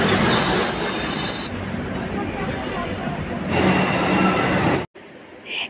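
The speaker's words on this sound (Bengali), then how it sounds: "ওই দিক থেকে একটা ট্রেন যাচ্ছে" A loud train rumbles and screeches past close by at Dum Dum station, wheels squealing on the rails, with voices faintly underneath before the sound cuts away.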